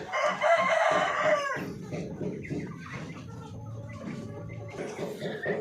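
Darag and Parawakan native chickens in a backyard farm: a rooster crows loudly and close for about a second, followed by softer clucking and murmuring from other fowl.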